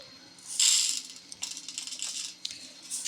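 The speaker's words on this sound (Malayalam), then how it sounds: "എണ്ണ ചൂടായി വന്നിട്ടുണ്ട് നമുക്ക് കടുക് ഇട്ടു" Mustard seeds tipped into hot oil in a pan heated on a home stove burst into a loud crackling spatter, then keep popping in lighter, uneven bursts.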